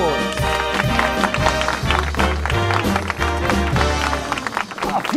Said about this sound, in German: begrüßen Sie mit einem tosenden Applaus Frank Houston und Jerry Jones